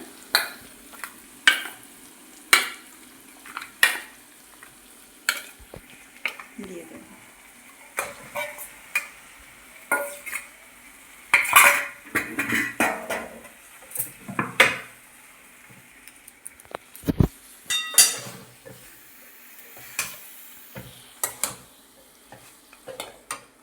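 Marinated mutton for a cashew mutton curry frying in a pan over a low flame, with a spoon stirring and scraping at an uneven rhythm, clinking against the metal, over a soft steady sizzle. No one speaks.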